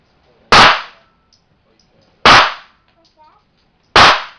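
Three single, very loud gunshots from a Smith & Wesson 500 Magnum revolver, each a sharp blast with a short tail, spaced roughly two seconds apart, with near silence between them.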